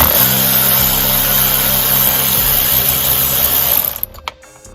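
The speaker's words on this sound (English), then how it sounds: "first we're going to unscrew this bolt here, that T-25 Torx bit" A power driver with a T-25 Torx bit unscrewing a bolt on a Jeep Wrangler JL, a loud steady whirring motor lasting about four seconds before stopping, followed by a couple of faint clicks.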